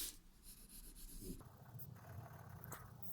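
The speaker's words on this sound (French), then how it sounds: "Je vais colorier au bord." A tree trunk is coloured in brown on paper, producing continuous soft scratchy rubbing strokes, close and quiet, with a change in stroke texture partway through.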